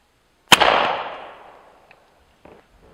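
An Airforce Texan air rifle fires a single shot into dirt outdoors, a sharp loud crack with a long decaying rush afterward. A couple of faint small clicks follow.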